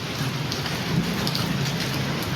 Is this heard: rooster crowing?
no